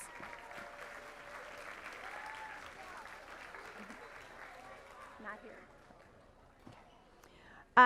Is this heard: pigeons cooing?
no